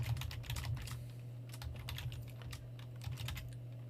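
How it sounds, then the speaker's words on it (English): Rapid, uneven keystrokes clatter on a computer keyboard as a line of HTML text is typed, close and fairly quiet, with a steady low hum underneath and no voices. "So I'm going to type a line."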